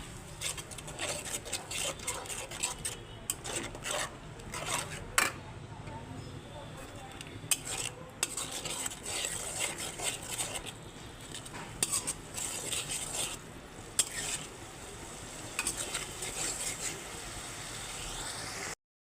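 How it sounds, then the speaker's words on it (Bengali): A spoon scrapes and clatters in a pan as spices are sautéed with a little water for an egg curry, producing irregular metallic knocks over a low background hum, fairly faint. "এখন মশলাগুলো আমি সব দিয়ে দিচ্ছি আর একটু জলও দিয়ে দিচ্ছি মশলাটা না পুড়ে যায় সামান্য একটু জল দিয়ে এখন পাঁচ মিনিট কষাতে থাকবো"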